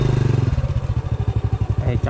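A dirt bike motorcycle engine chugs close by in a fast, rhythmic thumping pulse, first a low idle and then a quicker steady beat, near a deep muddy trail.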